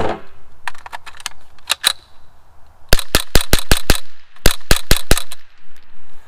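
Rapid shots from a Savage A22 rifle: a few scattered cracks, then two quick bursts of about six sharp reports each, close and loud.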